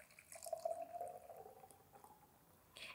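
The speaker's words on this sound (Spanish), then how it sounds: "Y verter y el tiempo, el sonido que hace el agua." Water pours from a small jug in a gentle, faint trickle that runs for about a second and then fades into soft drips, heard close in a quiet room during a Montessori practical-life pouring exercise.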